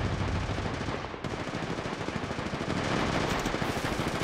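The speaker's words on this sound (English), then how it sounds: "Getting shot at. Opening fire." Sustained automatic gunfire in the mobile battle royale game Apex Legends Mobile, loud dense bursts of rapid shots filling the whole stretch with barely a break, no talking.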